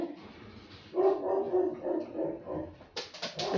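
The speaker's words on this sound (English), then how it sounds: "what is she barking at?" A dog barks in a short burst of several sharp, fairly close yelps near the end, following a stretch of indoor rustling and handling noise.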